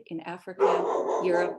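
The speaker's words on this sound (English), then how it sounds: "Apologies for my dog barking in the background." A pet dog barks in the background under a person speaking clearly in the foreground.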